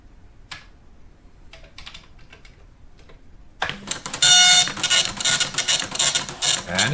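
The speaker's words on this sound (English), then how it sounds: "And it's printing." A computer printer starts up after a few quiet mechanical clicks, then runs with a loud, buzzing, rattling print-head sound in uneven bursts.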